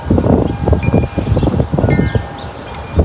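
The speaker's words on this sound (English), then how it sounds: "It's windy right now." Gusty wind buffets the microphone in loud, uneven low rumbles in Middle Tennessee, with a faint higher hiss behind.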